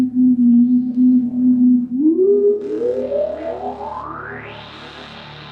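A UDO analog synthesizer drones a buzzy low tone, then sweeps upward in pitch with a resonant filter glide, fading to a thin high whine.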